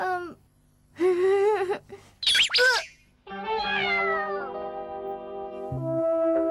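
A stray cat that followed someone home meows close by in a cartoon scene, with several clear, drawn-out meows and a squeal between stretches of music and other sounds.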